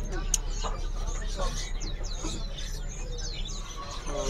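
A caged Javan mountain forktail gives sharp scattered chirps and whistled call notes over a steady low hum, fairly close, with faint market-like background noise.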